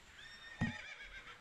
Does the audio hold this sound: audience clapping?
no